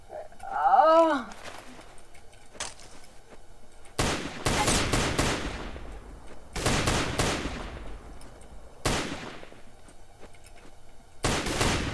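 Loud bursts of video game gunfire ring out in several separate volleys, each a dense rapid crackle with a decaying tail, following a brief tonal sound at the start.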